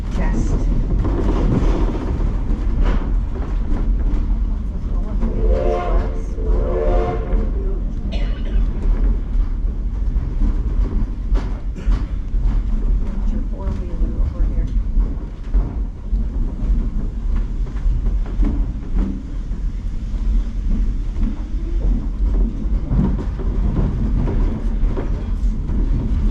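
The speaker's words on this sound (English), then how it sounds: "This whistle, and then there will be two more. Those are called a running brake test." The 1880 Train, a tourist railroad running between Keystone and Hill City in the South Dakota Black Hills, sounds its whistle for a running brake test: a tonal blast over a steady, loud rumble of rolling cars and track.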